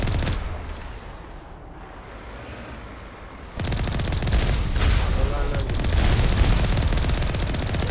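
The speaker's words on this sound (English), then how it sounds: "Loads of rockets." Rockets fire in heavy, sustained volleys in the game Mass Effect, a dense roar of blasts and explosions swelling loud after a quieter stretch of combat noise.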